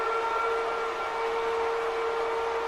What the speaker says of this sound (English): you hear the sirens throughout the arena